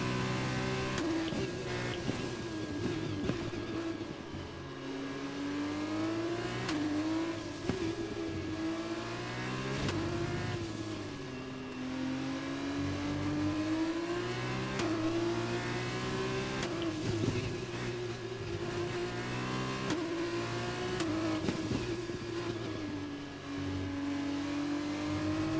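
A Formula 1 race car engine in F1 2021, a continuous high-pitched whine that rises and falls as the car accelerates and shifts through the gears across a lap, steady and prominent throughout.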